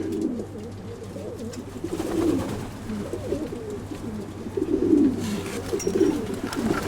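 Racing pigeons coo close by in a loft, with soft, rolling, repeated calls that swell and fade over several seconds while a low steady hum sits underneath and no one speaks.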